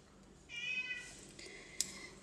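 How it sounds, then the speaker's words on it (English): A hungry cat meows loudly from the background in a quiet indoor room, a sustained yowling cry followed by a brief sharper call. "that's a hungry cat yelling at me in the background"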